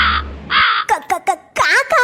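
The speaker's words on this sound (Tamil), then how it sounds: "காக்காவா? காக்கா எப்படி பில்டிங்குக்குள்ள வந்துச்சு?" A cartoon crow caws inside a building, a few loud close harsh caws at the start, then a voice talks over the scene.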